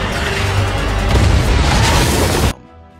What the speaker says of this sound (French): Après une énorme explosion